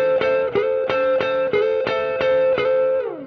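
Distorted electric guitar solo phrase with sustained, bending notes in a steady rhythmic pattern, loud and close, ending on a falling bend; no talking.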